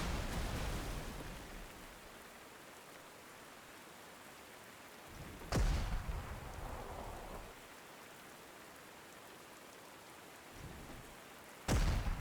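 Steady rain hiss from the Panzer Corps 2 strategy game fills the whole stretch, broken by two sharp, loud thunder cracks near the middle and end, with a softer rumble between them.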